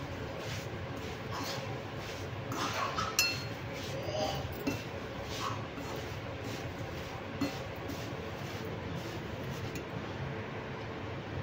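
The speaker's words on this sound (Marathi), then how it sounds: "मी हे भाजून घेते पोहे आता" Flattened rice (poha) dry-roasting over low heat in a pan, a steady light rustle with scattered soft clinks and scrapes of a spoon stirring, close and continuous with no talking.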